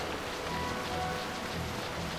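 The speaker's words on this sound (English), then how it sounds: "And yeah, it's raining now." Steady rain hisses across the whole stretch in Final Fantasy XII as the party heads south to Jahara during the wet season, a dense, even downpour with no voices over it.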